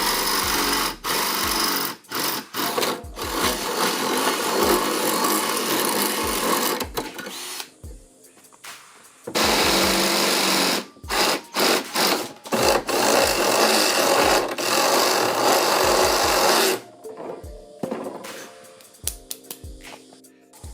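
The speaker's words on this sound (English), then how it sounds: "we'll just drill into the bracket so these can fit" A power drill bores into a metal bracket in several bursts of about two to five seconds, each a loud, close, buzzing whir, with short quiet gaps and light clicks between runs.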